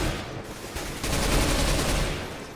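Sustained rapid gunfire from a Counter-Strike: Global Offensive match on a yacht map, a dense fusillade of overlapping automatic bursts that swells louder after the first second and stays heavy to the end.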